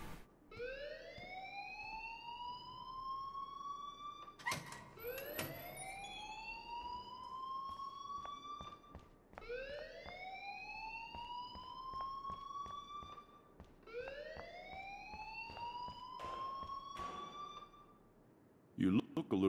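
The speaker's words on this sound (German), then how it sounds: "please turn off that alarm" A rising, wailing electronic alarm from the video game Life is Strange sweeps up again and again in a steady cycle, looping alone at moderate volume.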